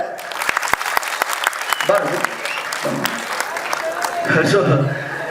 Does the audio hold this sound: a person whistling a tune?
no